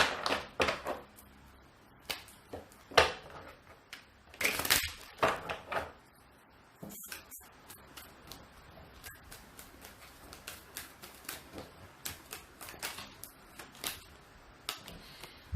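Tarot cards being shuffled by hand in a series of short papery riffles and snaps, close and quiet, arriving in irregular bursts separated by brief pauses.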